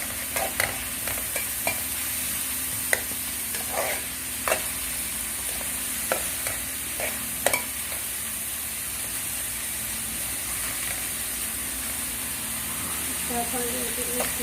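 Macaroni frying in a pan while being stirred, a constant sizzling hiss broken by repeated sharp spoon scrapes and taps against the pan, close and fairly loud, with no talking.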